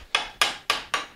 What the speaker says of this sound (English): Using one of my bench chisels here because I want to kind of pound on it a little bit.